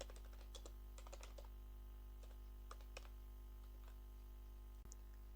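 Clicks from typing on a computer keyboard come in scattered quick bursts over a constant low electrical hum, faint and close, with no talking.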